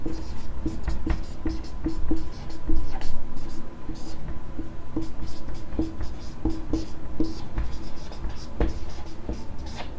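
A pen or marker scratches out short repeated strokes while a teacher works through a geometry problem about triangles, with steady nearby talking over the writing.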